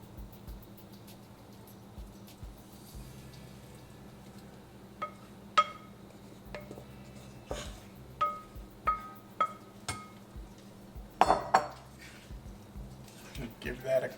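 Mixed vegetables tipped into a kadai pan of gravy and tossed, giving soft wet squishing with a run of sharp metallic clinks and scrapes from the pan, growing busier toward the end.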